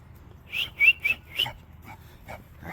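A person whistling to call dogs on a morning walk with several dogs, a few short, sharp rising whistles in quick succession, close and clear, followed by fainter soft calls.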